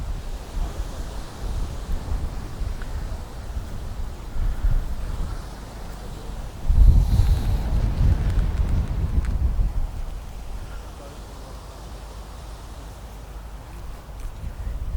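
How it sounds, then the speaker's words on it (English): Strong wind blowing outdoors and buffeting the microphone, a continuous low roaring rumble that surges in a heavy gust midway before easing back. "the wind is so strong"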